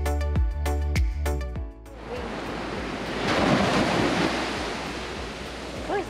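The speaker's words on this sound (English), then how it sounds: "gotta be careful with the waves here" After a brief burst of rhythmic music, ocean waves at Waimea Bay Beach, Oahu, rush and surge onto the beach, a loud broad roar with gusting wind on the microphone.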